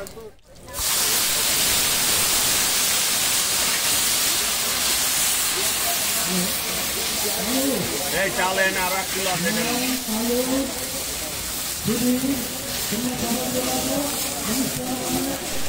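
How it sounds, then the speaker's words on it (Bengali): A loud, steady sizzle and hiss of onion paste frying with cumin and bay leaves in a kadai runs throughout, with a voice talking underneath in the later part. "পেঁয়াজটা ভালোভাবে ভেজে নেব।"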